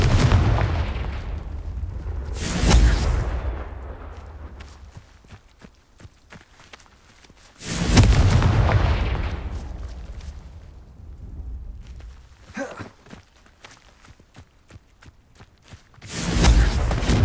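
Confringo blasting spells explode in Hogwarts Legacy, several loud bursts spaced a few seconds apart with crackling debris and footsteps between them.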